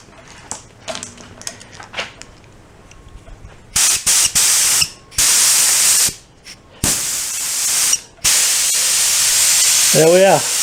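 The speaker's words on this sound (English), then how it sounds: "fully functional compressor sitting on the side of the road, fixed." A 33-gallon Craftsman air compressor, found at the roadside and repaired, releases air in several loud, close bursts of hissing that start and stop abruptly after a quieter stretch of small clicks and handling.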